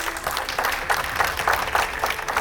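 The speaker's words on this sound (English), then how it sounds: "Let us all give him a warm round of applause" An audience at a Philippine scientific gathering gives a warm round of applause for an opening speaker, a steady, fairly close crowd clapping throughout.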